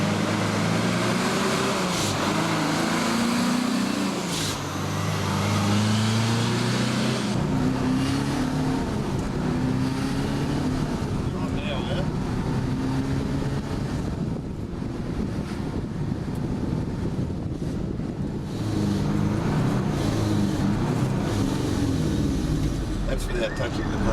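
Classic restored truck engine running on a drive around the block, a low droning note that rises and falls through the gears, buried under heavy wind buffeting on the microphone.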